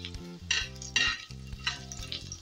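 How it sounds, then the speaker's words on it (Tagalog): Ginger sautéing in a hot pan for spicy burong gourami, a steady close sizzle with several short scraping stirs of a utensil against the pan and no talk. "Tayo magigisa. Pero mauna muna yung luya."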